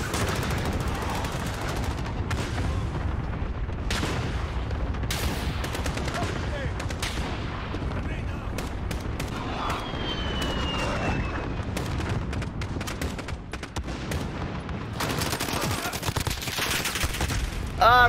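FN Scar rifle fire with thermal sight in Call of Duty: Modern Warfare multiplayer, with dense continuous bursts of automatic shots plus explosions and jet noise layered throughout, loud and busy, with brief voice chatter underneath.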